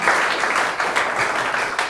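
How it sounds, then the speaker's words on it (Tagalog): Continuous applause from a church congregation at a Filipino worship service, a dense, steady wash of many hands clapping at once, fairly loud and filling the full two seconds without talk. "malakas nga po na palakpak para sa Panginoon"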